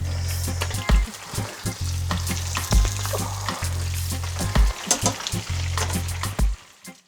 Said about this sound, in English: Make sure you turn your stove between medium and high and allow it to fry nicely.